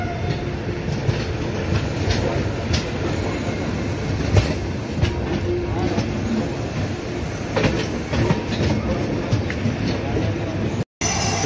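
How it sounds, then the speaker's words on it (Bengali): A Sealdah line train runs past on the tracks near Kolkata, with a continuous heavy rumble, wheel clatter and scattered clicks that stay loud throughout. A brief dropout comes near the end. "এই হচ্ছে শিয়ালদা লাইনের ট্রেন"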